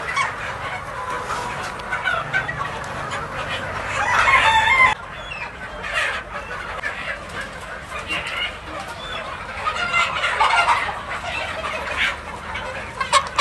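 Many chickens cluck and squawk together with roosters crowing on a free-range desi poultry farm of about 3000 birds, a dense, busy flock sound, with a voice talking now and then over it.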